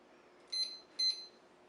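Two short, high electronic beeps from a kitchen oven timer being set while cake pops bake at 350 degrees, evenly spaced about half a second apart over a quiet room background.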